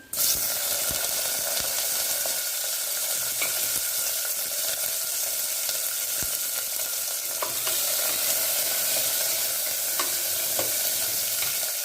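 Onions and green chilies frying in oil with cinnamon and cloves, a loud, dense, unbroken sizzle close by, with a few faint spatula taps and no speech.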